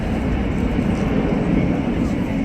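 An Airbus A380 with four GP7000 engines takes off at the Farnborough air show, a loud, steady, broadband jet roar that fills the whole stretch without letup, with speech under it.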